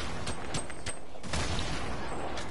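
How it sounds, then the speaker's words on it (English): Grenade blasts in the Fortnite Battle Royale video game, a quick run of sharp booms and bursts spread across the stretch, layered over a steady wash of in-game noise. "they got nades"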